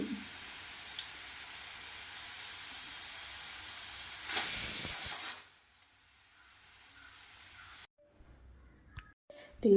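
A pressure cooker lets out a loud, sustained steam whistle while botty curry cooks, the hiss holding steady before cutting off, followed by quieter kitchen noises and brief clatter.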